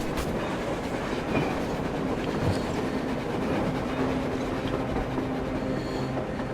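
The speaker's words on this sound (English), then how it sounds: "A train! A damn train on the surface!" A video game train rumbles past on the surface with steady rolling noise and faint rhythmic clatter of wheels, continuous and fairly close, with no voices.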